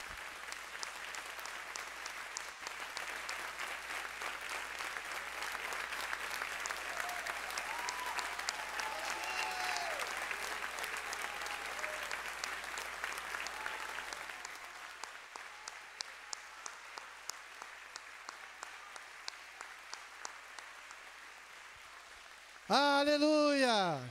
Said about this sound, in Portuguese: E aí eu peço para toda a igreja ficar de pé e entregar o melhor do teu aplauso.